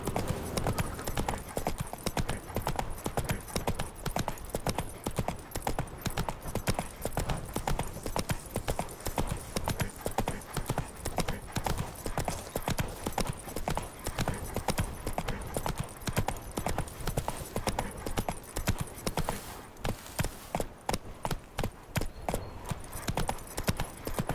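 Horse hooves clip-clop steadily and rapidly as a rider travels in The Witcher 3, a continuous close rhythm running throughout at an even, fairly loud level.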